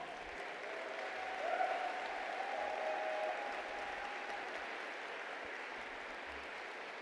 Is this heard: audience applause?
yes